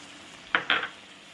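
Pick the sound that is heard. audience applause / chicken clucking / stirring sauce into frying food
stirring sauce into frying food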